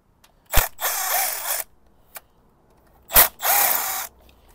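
A power tool removes the top bolts on a Ford S-Max 2L EcoBoost engine: two short sharp impact bursts, each followed by about a second of whirring, close and loud with quiet gaps between.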